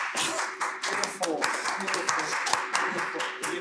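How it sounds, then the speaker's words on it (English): A theater audience at a Second City comedy show claps and applauds in a steady patter of hand claps under ongoing talk. "Logan's the only one that gets an applause"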